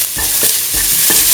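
A ground mint and fennel-coriander mixture is stirred in a hot, sizzling pan, with four quick, rhythmic scrapes of a utensil over steady frying.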